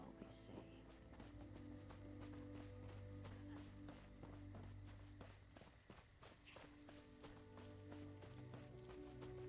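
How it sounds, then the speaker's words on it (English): Steady, rhythmic footsteps thud across wooden planks in Elder Scrolls Online, each step distinct and close. They continue without pause over a layer of sustained game music. "You hear my footsteps on the wood"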